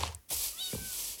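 Cat meowing in Minecraft Beta 1.14, a short, faint pair of mews over a steady hiss, with no talk.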